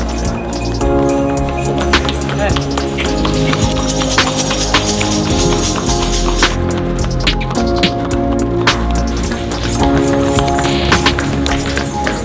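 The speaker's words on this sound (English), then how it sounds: "So everything is transported by horse-drawn cart here." Hooves of a horse-drawn cart clip-clop steadily on hard ground on the Gili Islands, with jingling harness and rattling wheels, loud and close over continuous background noise.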